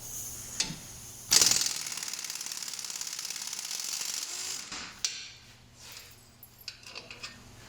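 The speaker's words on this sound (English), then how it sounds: "Continue by getting the other 2 bolts out." Removing 21 mm head bolts from a wheel bearing knuckle with a power tool: a sharp clack, then a sustained rattling impact-driver burst lasting about three seconds, followed by scattered metallic clicks and clunks nearby.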